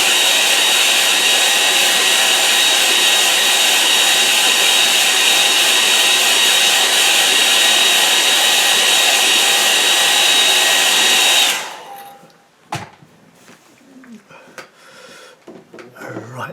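A hair dryer blows loudly and steadily over a wet painting for about eleven seconds, then cuts off, leaving a few faint knocks and handling sounds.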